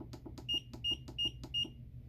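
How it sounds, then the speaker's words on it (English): A very loud fry timer alarm beeps in four evenly spaced high-pitched tones over steady clicking and low background hum. "this is a very loud timer"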